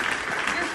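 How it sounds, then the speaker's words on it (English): Audience at the Songwriters Hall of Fame ceremony applauding, a dense steady wash of clapping filling the short moment at an even loudness. "So please, one more round of applause for yourselves."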